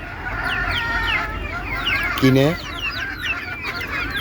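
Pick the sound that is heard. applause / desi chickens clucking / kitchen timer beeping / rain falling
desi chickens clucking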